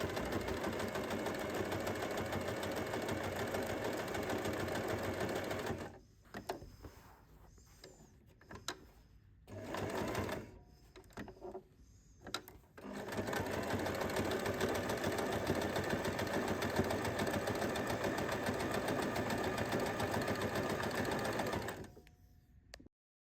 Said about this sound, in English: you can use your sewing machine